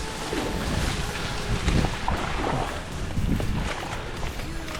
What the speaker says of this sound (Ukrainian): такий вітер просто капець